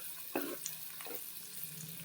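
Chopped onion goes into melted butter in a pan and is stirred, a quiet low sizzle broken by a few soft scraping strokes and a sharper clink at the end, close and without talk.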